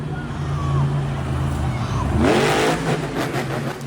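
A monster truck's engine roars at a Monster Jam arena event, a sharp throttle stab rising in pitch over a continuous loud crowd-and-engine din, with a commentator talking over it.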